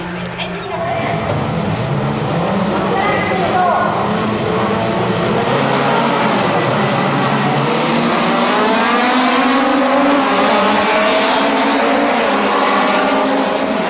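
More than thirty Toyota AE86 Hachiroku light rear-wheel-drive race cars in a one-make race on a circuit, a loud, continuous engine roar from the pack passing close, with a commentator speaking over the noise.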